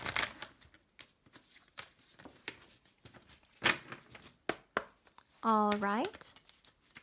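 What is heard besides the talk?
shuffling and drawing tarot cards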